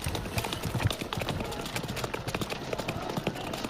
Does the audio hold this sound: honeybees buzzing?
no